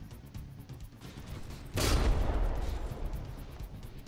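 Naval guns fire in a From the Depths warship battle, with a sudden heavy boom that rolls into a long, rumbling wash of distant fusillade, moderately loud and without speech.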